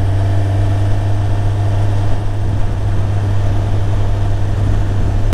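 A Suzuki GSX-R1000 K8 motorcycle engine runs at a steady idle, giving a loud, even, low rumbling drone that holds unchanged for over five seconds with no voices.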